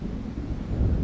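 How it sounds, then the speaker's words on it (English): Low rumbling thunder of an approaching storm in the video game Alan Wake, a steady deep roll with wind-like noise that swells slightly toward the end, with no voices. "It seems there's a storm coming."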